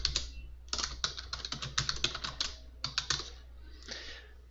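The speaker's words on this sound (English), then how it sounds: "We can type anything we want here." Close, quiet typing on a computer keyboard, with quick clusters of crisp key clicks separated by short pauses over a low steady hum.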